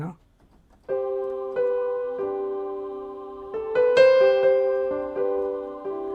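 A Yamaha PSR-I400 electronic keyboard plays a slow sequence of sustained chords in split mode, each note layered with two blended instrument tones, ringing clearly with no talking.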